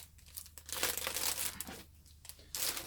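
Wrapping material tucked and folded around a pink makeup gift hamper gives close, continuous crinkling and rustling with a few louder crackly swells, heard alone without talk.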